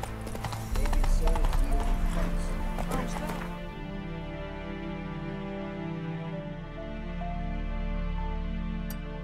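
A horse galloping in The Witcher 3 video game, a fast, loud clatter of hooves at the start that soon gives way to sustained tonal game music.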